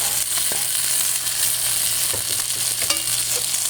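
Chopped tomatoes sizzle and fry steadily in a hot pan for a fish dish, with a constant crackling hiss and occasional stirring scrapes and clinks, close and alone without talk.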